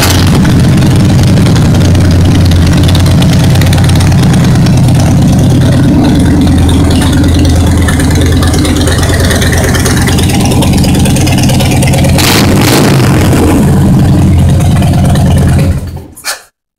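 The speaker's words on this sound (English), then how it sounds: "It's a 2012 Harley-Davidson Heritage Softail Classic." A 2012 Harley-Davidson Heritage Softail Classic motorcycle engine with 2,873 miles runs loud and close for about sixteen seconds, a deep steady rumble with a brief rise in the middle, before cutting off abruptly.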